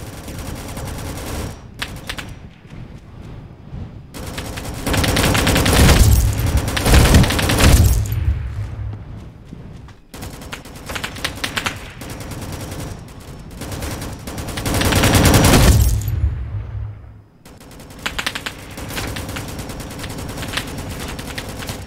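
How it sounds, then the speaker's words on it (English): Gunfire in the Roblox game Rolling Thunder: loud, close bursts of rapid automatic fire and booming shots in dense volleys, broken by brief pauses, with no voices. "Where are you shooting from?"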